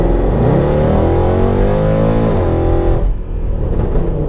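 A Mercedes C63 AMG engine accelerates in comfort mode, loud and close, its pitch rising steadily before a gear shift near the end drops the revs, and then the engine climbs again; no voices.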